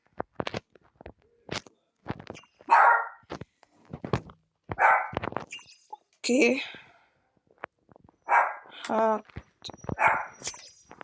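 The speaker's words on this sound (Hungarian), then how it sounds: "Elnézést, ha halljátok a kutyámat ugatni." A pet dog barks repeatedly in short sharp bursts, close and loud, interleaved with someone talking over a football career-mode game session.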